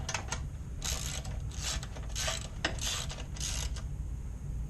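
A recoil starter pull cord on a small engine is test-pulled several times. Each pull gives a ratcheting, whirring mechanical burst, five or six in a row at close range over steady low background noise.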